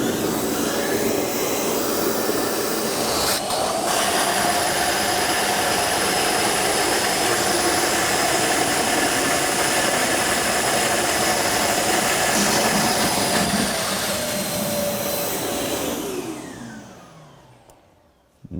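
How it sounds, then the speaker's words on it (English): A Milwaukee 6.5 peak HP corded wet/dry vacuum power head with a foam filter and hose runs at a steady, loud whine for most of the time, then winds down and fades near the end. "We have the corded power head on with the foam filter attached in the same exact hose."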